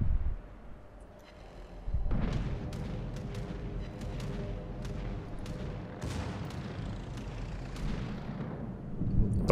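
Warship guns fire in a World of Warships naval battle, with the Giuseppe Verdi's secondary batteries booming in a rapid series of heavy, rumbling shots over a continuous low roar, loud and dense throughout.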